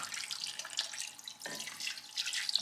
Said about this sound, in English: I'm just going to fill it up with some water.